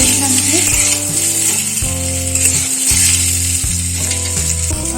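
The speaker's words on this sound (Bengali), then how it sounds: "জিরেটা ভালো ভাজা হয়ে গেছে, হিঙের গন্ধটা উঠেছে।" Cumin seeds and asafoetida sizzle in hot oil in a pan, a continuous close crackling hiss that carries steadily under background music with no pauses.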